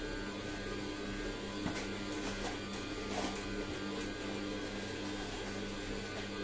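Juice extractor motor whirring steadily in a basement, a constant buzzing hum with faint rattling, heard up close with no talking.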